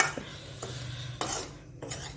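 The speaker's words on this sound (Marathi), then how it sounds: "आता छान हे फिरवून घेते" A spoon stirring sabudana khichdi in a pan with the gas turned off, light metallic scrapes and taps against the pan at a slow, irregular pace over a low steady hum.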